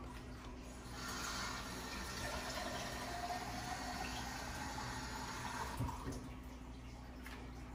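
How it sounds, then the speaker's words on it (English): Water pours steadily into turmeric ginger juice, a continuous rushing fill starting after a quiet second and running for several seconds before easing off, fairly soft and with no talking. "I'm gonna put more water in it so the water come all the way up."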